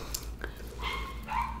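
A dog barks a few times at a distance, muffled as if from outside on the street, with faint room noise in between.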